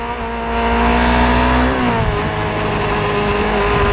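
A geared motorcycle engine revving hard, its pitch climbing steadily before dropping sharply at an upshift and pulling again, loud and close with constant wind noise, no talking.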